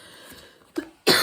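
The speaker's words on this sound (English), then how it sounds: "I'm coughing like crazy" A woman still recovering from bronchitis coughs indoors: a small throaty catch, then a brief gap, then one louder, harsher cough.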